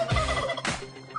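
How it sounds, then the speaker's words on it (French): A turkey gobbles in the farmyard of the Ferme de la Prée at Claye-Souilly, giving a loud, close, rattling burst of warbling calls. A second shorter gobble follows midway, with no talk over it. "Ferme de la Pré, le roi de la basse-cour, c'est le dindon"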